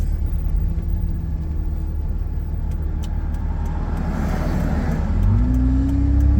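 A car drives past from behind on a park road loop in Joshua Tree National Park, its steady engine rumble swelling close and loud, then a rising engine tone near the end as it moves away; no talking.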